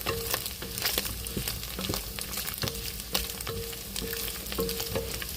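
Pork hissing in a pan of hot oil, a constant close sizzle broken by repeated scraping and clacking of a spatula being pushed through the meat.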